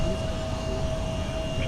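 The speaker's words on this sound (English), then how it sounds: "Going to runway 17 for departure, same with our X Northwest 757-200" A Northwest Boeing 757-200 jet departing on runway 17 at Minneapolis airport gives a steady, continuous engine roar with a faint whine, heard from a distance.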